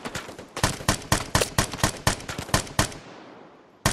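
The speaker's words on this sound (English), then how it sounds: "He's shooting at me now." Rapid volleys of video game gunfire from a shooter match, a dozen or so sharp cracks in an uneven burst pattern, loud and close, fading near the end with no talking over them.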